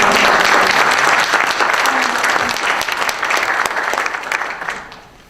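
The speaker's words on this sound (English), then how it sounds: "So can we have a round of applause?" A workshop audience breaks into loud, full applause, a thick continuous roar of clapping with faint voices mixed in, holding strong before tapering off toward the end.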